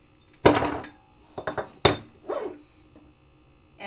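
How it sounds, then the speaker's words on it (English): A metal bench block is picked up and set down on a workbench, giving several sharp metallic clanks and knocks spaced irregularly with quiet gaps between them. "we'll take out our bench block"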